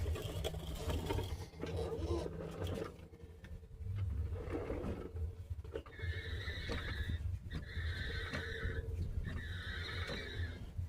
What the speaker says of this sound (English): Transfer case is making quite a bit of noise though.